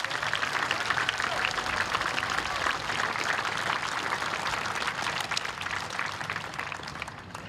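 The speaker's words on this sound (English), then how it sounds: "Let's give them all a big round of applause." Crowd at a Relay for Life event applauding its sponsors, a continuous, fairly distant wash of clapping from many people lasting several seconds, with faint voices mixed in.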